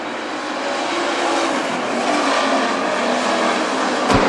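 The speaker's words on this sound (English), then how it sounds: "Kurt Becken takes care of that business in turn number 2 as he moves the 70X car now into position number 5." WISSOTA street stock race cars roar around the Granite City Speedway oval, a loud, steady engine drone that holds throughout with one sharp thump near the end.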